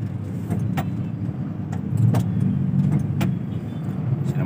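Steady road traffic in front of a shopping mall in Calamba is heard from inside a car, with a constant low engine and road rumble and a few faint clicks and rattles.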